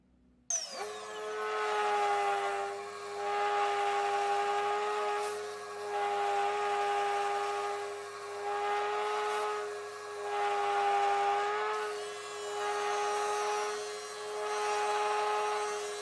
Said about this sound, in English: So we can now sand all this back.